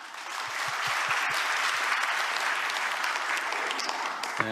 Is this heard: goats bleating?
no